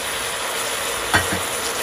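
A steady, loud sizzle of tomatoes with crushed red chili, turmeric and salt frying in a hot pan, with a brief clatter of stirring partway through.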